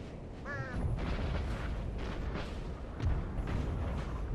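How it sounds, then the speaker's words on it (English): Enemy artillery fires in Napoleon Total War amid a steady battlefield rumble, with dull distant booms repeating across the few seconds. "Yeah, the enemy guns are firing."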